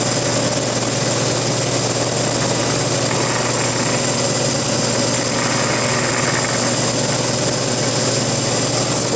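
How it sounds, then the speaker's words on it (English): A CNC mill runs a cutter through its cuts in a knife-making shop, giving off a steady, continuous mechanical hum and whine at a constant loud level with no pauses. "I gotta drop this cutter in and start making some cuts"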